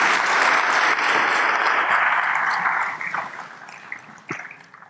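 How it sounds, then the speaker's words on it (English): Sustained audience applause fills a CEO summit hall, loud and dense at first, then thinning out and fading toward the end, with a few scattered late claps. "Ladies and gentlemen, another round of applause."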